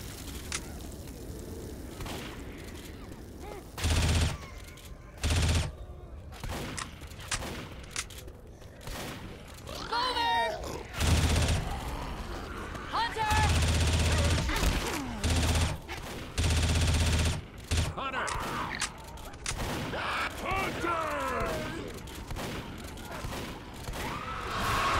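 Video game gunfire in a chaotic firefight: repeated bursts and volleys of shots, loud and close, with sharp blasts scattered throughout and voices talking amid the shooting.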